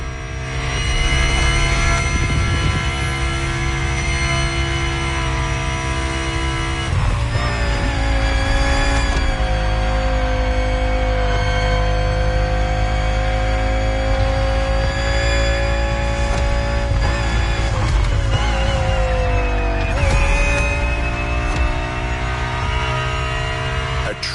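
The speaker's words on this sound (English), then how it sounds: "The 2020 Audi R8 LMS GT2." A 2020 Audi R8 LMS GT2 race car in The Crew Motorfest racing game roars continuously at close range, with the engine note climbing and dropping through gear shifts and faint tire squeals, and no voices heard.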